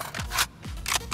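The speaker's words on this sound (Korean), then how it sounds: "재장전 중!" Weapon reload in the Valorant game: a short run of quick metallic and scraping mechanical clicks in two bursts, close and fairly loud, with no talk.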